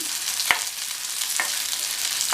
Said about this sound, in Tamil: இதையும் சேர்த்து இது கூடயே வதக்கிக்கலாம்.